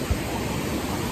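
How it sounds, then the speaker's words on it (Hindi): Wind drives water spray near a waterfall near Dehradun, giving a steady, broad, moderately faint rushing hiss with no breaks, and a single soft thump near the start. "पानी उड़ रहा है भाई, उड़ रहा है, ऐसे हवा आ रही है और पानी भी आ रहा है।"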